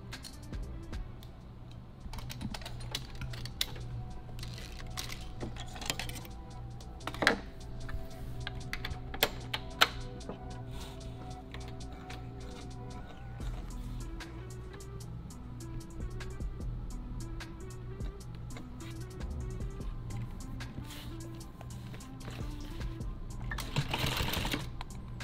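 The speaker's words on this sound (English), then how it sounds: "I've got this real small bobbin. I'll go ahead and wind this up." A sewing machine winds a small bobbin used for nylon tactical gear, a quiet steady whirring hum with scattered light clicks and ticks, fairly faint and without talk.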